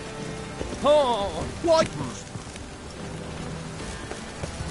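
Steady rain patters in The Witcher 3: Wild Hunt, a continuous wash of drops under a brief exclaimed voice near the start.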